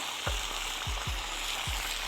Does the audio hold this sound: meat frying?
yes